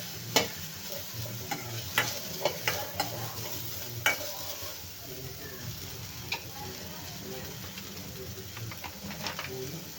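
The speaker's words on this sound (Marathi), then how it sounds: "आता भाजवायचा आहे एक कांदा एक मोठा वाला कांदा मी घेतलेला आहे" A large onion roasts in a pan until golden, a steady sizzle under repeated scraping stir strokes and sharp clinks, close up with no talk.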